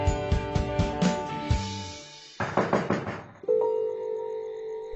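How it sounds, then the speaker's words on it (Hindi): Loud knocks on a door come in quick bursts of several sharp thuds, then a second, more forceful burst follows, with ringing, chime-like tones sustained between and after them. "खट खट खट, किसी ने जोर से मेरा दरवाजा खटखटाया"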